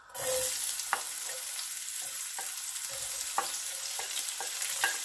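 Red onions sauté in a hot pan for pork blood stew, a bright continuous sizzle that starts abruptly and carries on with scattered spatula scrapes and taps, with no voices.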